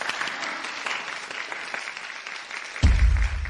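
An audience claps in steady, dense applause filling the room at moderate distance, ending with a low thump.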